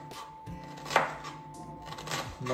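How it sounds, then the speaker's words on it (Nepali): Onions being chopped on a board for homemade momos, heard as close, steady knife taps at an uneven pace, with no talking. "यो चाहिँ प्याज हो यसलाई चाहिँ म काट्दैछु"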